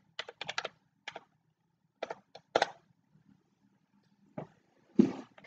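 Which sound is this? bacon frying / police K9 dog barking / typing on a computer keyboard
typing on a computer keyboard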